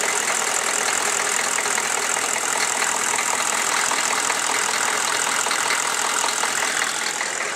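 A Chevy 6.5L diesel engine idles steadily up close, a continuous loud rumble with a rough, knocking clatter and a constant even level throughout, no voices heard.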